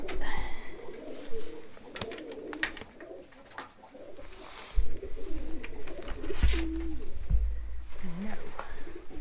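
A Victoria crowned pigeon gives low, deep coos inside a loft, mixed with clattering and rustling, while other birds call and some people speak.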